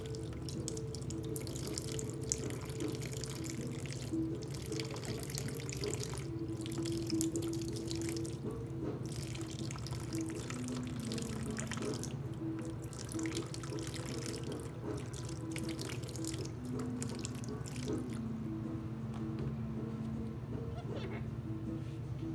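Water runs steadily into a cockatoo's bathing tub, a continuous splashing trickle that keeps going for the whole stretch, with small murmurs in the background.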